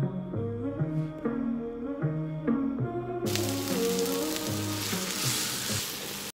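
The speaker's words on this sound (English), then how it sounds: "Add in a drop of oil and just fry the onion slightly." Sliced onion frying in a drop of oil in a pan at home: after a few melodic tones, a sudden bright, steady crackling sizzle starts and holds to the end, close and fairly loud.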